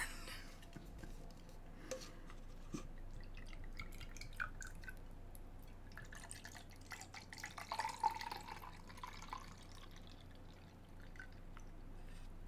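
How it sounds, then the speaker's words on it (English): Mead of 16% alcohol is poured into a drinking horn, a faint trickling and dripping pour that runs quietly for several seconds with small splashes, with no one speaking. "So I will enjoy this mead in a drinking horn."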